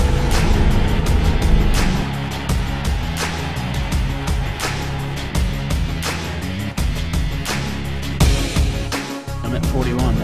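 A truck engine at wide open throttle hauling a heavy trailer of almost 19,000 pounds uphill, a loud continuous roar with rhythmic mechanical pulses, heard close with people talking over it.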